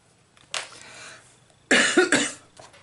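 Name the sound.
cough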